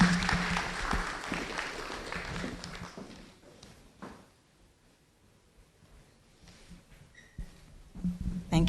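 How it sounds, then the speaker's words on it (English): Audience clapping at a public lecture, a brief burst of applause that quickly thins out into scattered claps, shuffling and faint rustle, then picks up again near the end. "Please, let's give her a round of applause."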